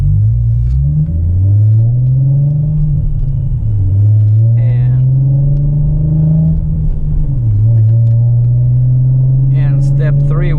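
A car with an aftermarket American Thunder exhaust, resonator removed and Flowmaster X-pipe installed, rumbles deep, throaty, steady and loud, its pitch rising and dipping a few times as the engine revs up and settles.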